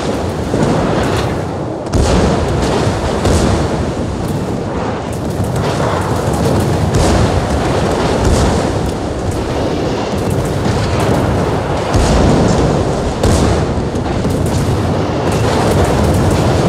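Heavy booming explosions and artillery-like blasts roll continuously in a World of Warships naval battle as an enemy cruiser is destroyed and sinks, loud and dense throughout with no speech.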